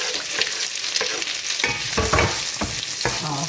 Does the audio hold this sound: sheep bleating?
no